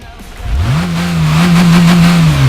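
A 642-horsepower car engine revs in the racing video game Gran Turismo 5, the loud engine note climbing sharply and then holding a high sustained drone at full volume.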